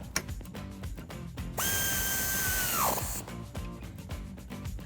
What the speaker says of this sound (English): Grabbing your 8mm Allen socket, tighten this down.